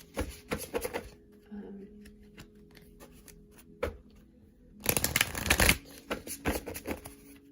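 Chakra Oracle deck cards shuffled by hand at close range: quick riffling bursts and taps at the start, then a longer loud flurry of shuffling near the end, with brief pauses between.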